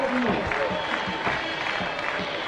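A celebrating crowd at the 1998 canoe world championship in Szeged applauds and cheers in a dense wash of clapping, while a commentator speaks over it.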